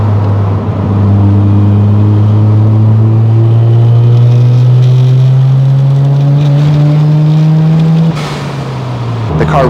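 A turbocharged Mazda RX-7 FC rotary engine pulls hard on a mountain touge road, its loud rising note climbing steadily for several seconds before easing off and picking up again near the end.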